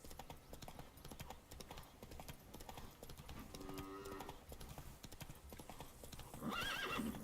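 Roach the horse galloping in Witcher 3: rapid, steady hoofbeats pounding on throughout, faint and game-like, with a brief whinny near the end.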